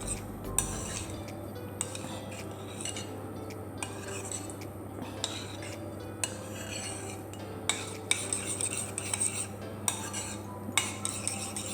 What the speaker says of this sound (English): You mix that gravy with that tomato sauce.